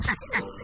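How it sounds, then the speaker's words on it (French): Young macaque monkeys give two short, sharp grunting calls close by, each lasting only a fraction of a second. "Lorsque de jeunes singes se montrent trop turbulents et qu'on entend ces grognements"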